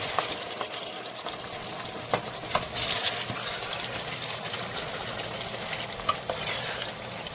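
Fried okra soup with pepper is stirred in a pot, giving a steady low sizzle and bubbling with occasional sharp clicks of a spoon against the pot, close and fairly quiet, with no talking.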